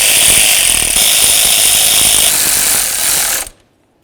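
A ratchet snugs nuts on a fuel injector bracket of a Chevy S-10, giving a dense, loud mechanical clatter close up for about three and a half seconds before stopping abruptly.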